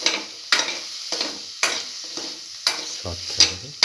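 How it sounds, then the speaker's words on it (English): Eggplant pieces and green chili sauté in a pan, with a spatula stirring in regular scraping strokes over a soft sizzle, close up and without talk. "saute thoroughly,"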